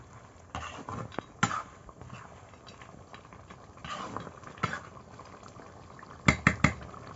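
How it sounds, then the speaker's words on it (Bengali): Chicken kosha being stirred in a pot, scattered scraping and clinks of a spoon against metal, with a sharp cluster of knocks near the end over a quiet background. "এবার নাড়াচাড়া করব।"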